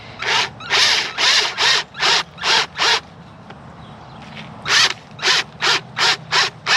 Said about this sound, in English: I'm actually going to drill 3 holes here